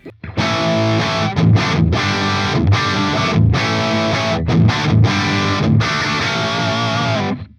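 Heavily distorted electric guitar through a Synergy Deliverance amp module direct into an interface with a custom impulse response plays chugging riffs with sustained chords, loud and dense, with a few brief pauses between phrases.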